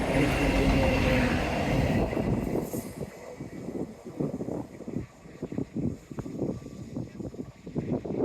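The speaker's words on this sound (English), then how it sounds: "And a sneaky little train." A train rumbles past close by along the Teignmouth seawall with rapid rattling and clattering of wheels, loud at first and then settling into a steady rhythmic clack.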